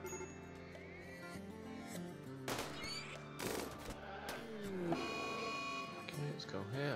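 Gunfire erupts in a RimWorld pirate raid, bursts of shots crackling over a steady game music bed, loudest around the middle and again toward the end, with a voice talking throughout.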